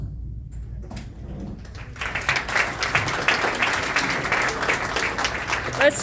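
Audience applause at a county coroner candidate forum, starting after a quiet moment with a voice and swelling into sustained, fairly loud clapping from a roomful of people.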